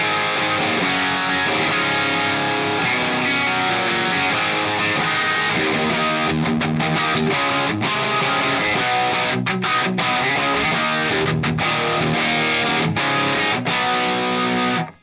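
A distorted electric guitar played through a Lion pedal with no reverb, miked with an SM57 and cabinet simulation, chugging loudly and steadily with thick sustained chords and a few brief gaps near the end.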